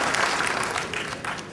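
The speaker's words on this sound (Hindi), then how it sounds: "और लोगों की तालियों की गड़गड़ाहट" A large crowd claps steadily at a convocation ceremony at BIT Patna, the applause dense and loud, easing off slightly toward the end.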